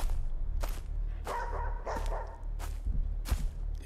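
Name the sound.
dog barking in video game Playback Trauma: The Dog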